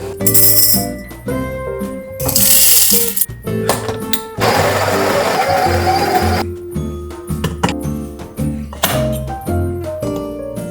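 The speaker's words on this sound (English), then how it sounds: "now we're gonna come over here to our espresso machine and pull 2 shots of espresso" An espresso machine's pump buzzes and hisses in loud bursts while steady background music plays underneath.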